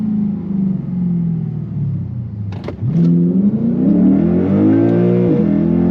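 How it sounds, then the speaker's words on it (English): Lexus GS-F V8 engine in manual mode, fitted with an aftermarket crank pulley, drones steadily and loud, then blips sharply through quick downshifts and climbs in a strong rising rev, heard alone from inside the cabin. "Ooh, the downshifts are crisper too."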